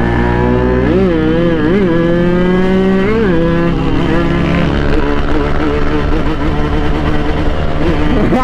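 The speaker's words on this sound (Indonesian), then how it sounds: "Makanya gua pakai motor RX King terus." Yamaha RX King motorcycle engine while riding, a loud close two-stroke buzz that rises and falls in pitch with throttle and gear changes, steady throughout over wind rumble.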